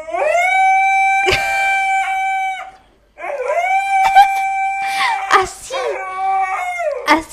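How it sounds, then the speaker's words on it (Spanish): Two long, loud, sustained dog howls with a short gap between them, several voices overlapping with yips and sharp noises in between. "son las perras."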